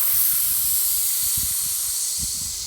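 A forceful, sustained exhale pushed out through tight lips as a tension breath during push-up training, a steady close hiss fading slightly toward the end.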